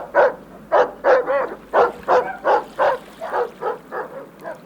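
Sled huskies at an Inuit camp bark repeatedly in a steady rhythm, about a dozen loud, close yaps and yips in a row, with no talk over them.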